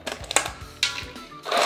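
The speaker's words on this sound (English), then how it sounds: "And then I've got some ice cubes that I'm gonna drop in." Ice cubes dropped into cooled brine for grilled quail, giving a quick run of irregular clattering knocks and clinks close by, with no talking.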